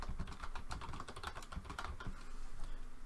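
Quick, light keystrokes on a computer keyboard while writing C++ code, a faint steady patter of clicks close to the microphone.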